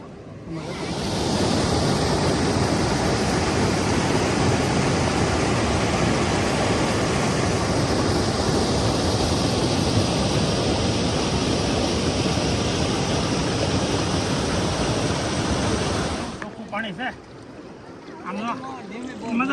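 River water rushes loudly past a dam in a steady, broad roar with wind buffeting the microphone, then it cuts off abruptly near the end, leaving quieter sound.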